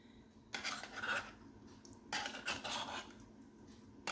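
Canned tuna spooned into a salad dish, with a metal spoon scraping and clinking against the dish in two close, busy bursts over a soft background.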